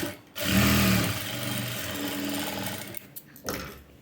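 A sewing machine runs steadily while stitching leaf-pattern piping, a loud continuous whirring motor and needle chatter that stops briefly near the end, with a few short bursts afterward.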